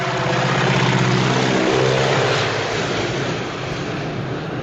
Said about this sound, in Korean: 이때 쓰인 복역기가 1930년대 후반에 나온 보잉 스티어먼 모델 75입니다